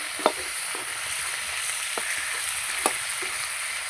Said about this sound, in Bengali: এবং ভেঙে আমি কড়া করে ভেজে নেবো মাথাটা